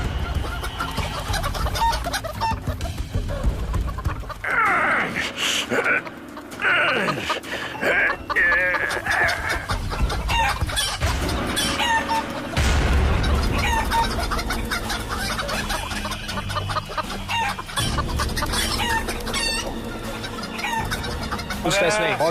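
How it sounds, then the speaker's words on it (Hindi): A rooster clucks and crows repeatedly at close range, mixed with other fowl noises, while people talk intermittently in the background. "बड़ा वाला मुर्गा कैसे खा रहा है उसके फोरहेड पे"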